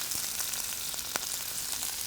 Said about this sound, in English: That sizzle is just... That's what you want to hear.